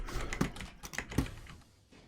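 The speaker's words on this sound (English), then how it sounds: "I know my swiping and keyboard presses are loud" Computer keyboard keys pressed during a gaming stream give a few sharp, irregular clicks spaced over two seconds, fairly close and quiet, with no talking.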